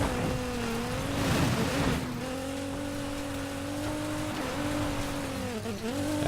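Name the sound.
race-spec car driving in the video game Need for Speed Payback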